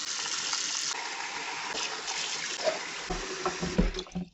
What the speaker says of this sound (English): we are going to add cold water, and that will stop it from cooking more